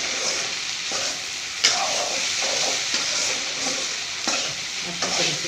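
Okra stir-fried in a pan with salt for a home lunch: a continuous close sizzle broken by periodic scrapes and stirs of a spatula, steady and moderately loud, with no talking.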